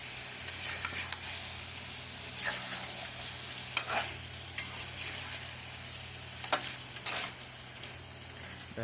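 Red ants cooked with spices sizzle in a pan while a spoon stirs them, sharp scraping knocks recurring every second or two over a constant frying hiss, no speech.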